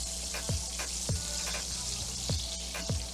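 Butter and oil fry in a pan with a steady, hissing sizzle, broken by periodic soft clinks and taps from stirring, all close and fairly loud with no talking.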